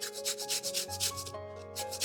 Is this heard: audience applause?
no